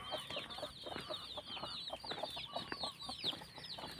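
Chickens cluck and chatter continuously nearby, several birds overlapping in a busy, uneven rhythm.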